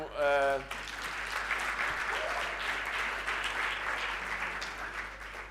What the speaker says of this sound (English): Please give the round of applause to this team.